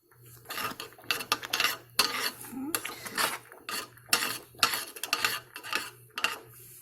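A spoon scraping and clanking against a pot of Jamaican cornmeal porridge while cinnamon sticks are fished out, a close run of irregular metallic scrapes and knocks with no talking.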